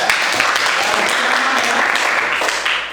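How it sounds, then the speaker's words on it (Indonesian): A loud burst of close, dense clapping from a classroom audience at a teacher performance assessment honours a presenter, with a voice briefly audible underneath as it tapers at the end. "Oke, tepuk tangan untuk Mbak Rara ya"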